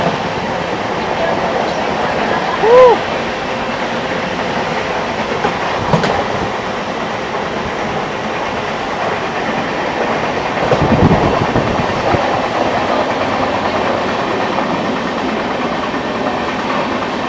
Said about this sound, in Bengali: কি যাচ্ছে দুটো ট্রেন